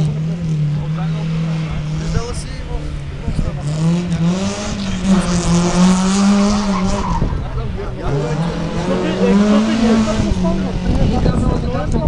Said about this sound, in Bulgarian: Фонтомен първи ще стартира официално вече в днешното състезание Time Attack Десислав Владимиров Дамянов.